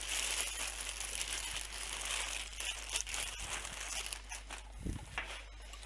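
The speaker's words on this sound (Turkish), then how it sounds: "Şöyle poşetinden bir çıkartalım." A Logitech G29 steering wheel is pulled from its plastic bag, with crinkling and rustling plastic heard close up, plus a few soft bumps near the end.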